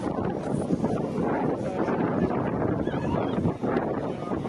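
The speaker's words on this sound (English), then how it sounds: "we can literally hear it's a windy day" Steady wind buffets the microphone on a blustery day at St Maarten, a continuous loud rushing roar with no pauses, heard close up beside the airport.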